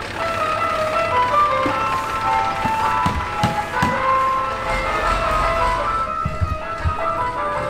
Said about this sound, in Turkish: Şimdi de çöp arabası geçiyor ve gene klasik bir müzik.